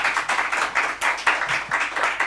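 A studio audience at a Ramzan children's quiz show claps for a correct answer, with brisk, rhythmic clapping from a modest group close by.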